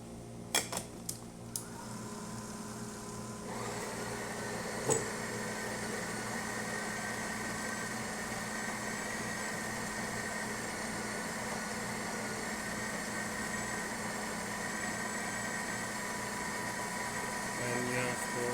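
A Breville Oracle Jet espresso machine pulls an espresso shot: a few sharp clicks open the sequence, then a steady pump drone with a faint high whine runs continuously at low level.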